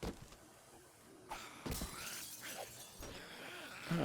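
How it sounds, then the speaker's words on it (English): Glass shattering inside the survival game 7 Days to Die, a few sharp breaking bursts, with a crash near the start and another mid-clip, over steady background game noise. "busting out the glass"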